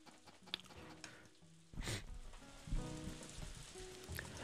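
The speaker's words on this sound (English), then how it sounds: "Gotta have the rain." Rain falls in a farming video game, a steady hiss and patter that starts abruptly partway through and continues under game music, moderately loud and close.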